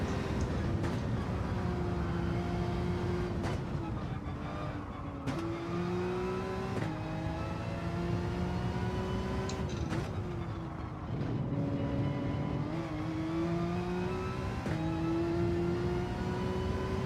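Race car engine in a racing video game, a steady harmonic drone that rises and falls in pitch as it shifts and revs through curves, continuous and moderately loud with no talk.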